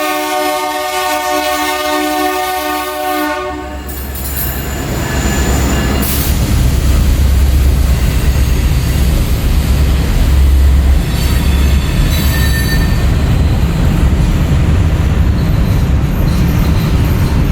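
A BNSF transfer train passes close by in downtown Tulsa, a loud steady horn blast giving way to a heavy continuous rumble of rolling cars with squealing wheels, no voices.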